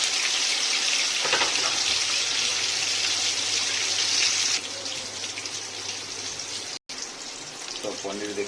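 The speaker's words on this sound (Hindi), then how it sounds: "तेल गरम हो गला फास्ट पनीरटा फ्राए करदे" Paneer fries in hot oil with a dense, close sizzle that drops to a quieter crackle partway through, briefly cutting out, with light clatter near the end.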